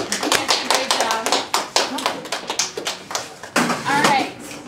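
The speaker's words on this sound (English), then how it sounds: "Applause to these lovely actors." Children clap for young actors performing a Hamilton scene in a classroom, a dense burst of small hands applauding with uneven rhythm, mixed with kids' voices and chatter throughout.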